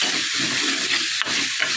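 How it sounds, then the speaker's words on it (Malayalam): Tomatoes sauté in a pan for homestyle rasam, with a steady close sizzle and a couple of sharp stirring scrapes against the metal. "തക്കാളി കൂടെ നല്ലോണം വഴണ്ട് കഴിയുമ്പോഴത്തേക്കും"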